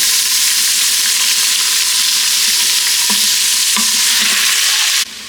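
Chopped onions fry in hot oil in a pot for a vegetable khichuri, after a pinch of asafoetida, giving a loud, steady broadband sizzle with a few stirring clinks, then dropping sharply at the very end.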